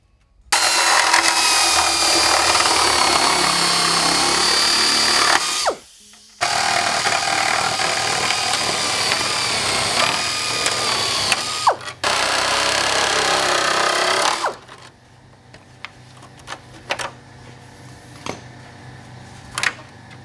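A power tool cuts through the honeycomb structure of a 1999–2004 Ford Super Duty part, running in loud continuous bursts with two brief pauses before stopping, followed by scattered clicks and handling noises.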